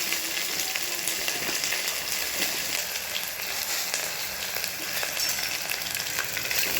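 Sliced onions sizzle steadily in hot oil for a capsicum biryani, a dense, constant crackling hiss that stays close and even throughout, with no voices.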